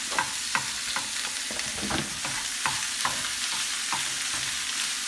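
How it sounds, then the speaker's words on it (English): Beef mince frying with browned onion in a fry pan, a continuous hiss broken by regular scraping stirs and pokes, close and steady, with no voices. "We're just gonna add the mince, which we've separated still. Separate it as it's put in the pan."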